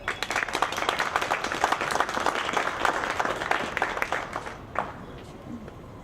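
An audience at a community college district ribbon-cutting ceremony applauds steadily in dense clapping that fades out near the end.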